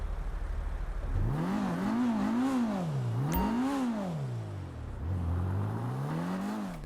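A Penumbra FF sports car in GTA 5 starts up and then revs repeatedly, its engine note climbing and falling in several rising sweeps, loud and close, with no talking.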